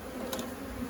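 Honeybees buzz softly around an open hive during an inspection, a faint steady hum with no voices.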